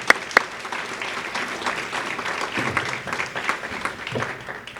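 A crowd applauds at a leadership awards ceremony, with steady, moderately distant clapping from many hands, a couple of sharper nearby claps at the start, and low murmurs beneath.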